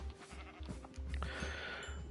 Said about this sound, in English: Sheep as well.